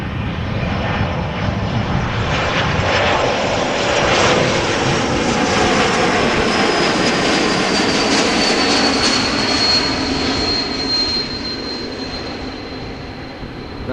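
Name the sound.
jet airliner at Amsterdam Schiphol Airport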